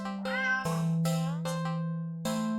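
Several short meows from a black cat in the game Do NOT Take This Cat Home come in quick succession, clear and close, over a continuous low background tone.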